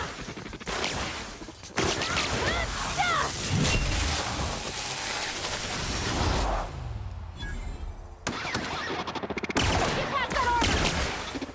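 Gunfire in The Outer Worlds: rapid bursts of shots crackle through most of the stretch amid game noise, with a brief lull before the firing resumes loudly, and a voice speaks over parts of it.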